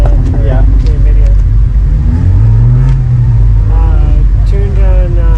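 Straight-piped car at a Milwaukee street meet, running a catalyst down pipe and front pipe with the resonator cut out and three small cans at the back, revs loudly and close by, a low rumble swelling then settling under background voices.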